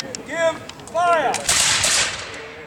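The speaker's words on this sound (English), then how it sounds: "Musketeers, open your pan. Present your piece. Give fire." Reenactment musketeers fire a musket volley at a military-history event at Jamestown: after a shouted command, a loud ragged crack of several muskets bursts out close by and rolls on as a dense roar for over a second.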